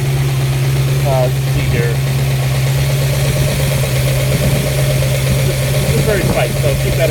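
A 1964½ Ford Mustang convertible engine idles steadily with a constant low hum, its crankshaft pulley carrying a very slight wobble, while someone speaks briefly over it.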